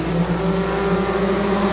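Stock cars race at Midvale Speedway just after the green flag, their engines a loud, sustained roar of several cars droning together at close range.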